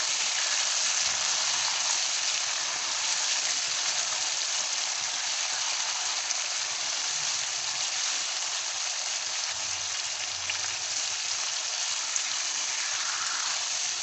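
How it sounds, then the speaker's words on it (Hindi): Mutton kidneys cooking in a pan as they start releasing their water, giving a steady, close, even sizzle and hiss with no breaks and no talk. "ये देखिए, इसने पानी छोड़ना शुरू कर दिया।"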